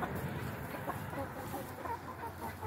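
Chickens clucking inside a heated winter run, soft scattered clucks and murmurs over a steady low hum of background noise.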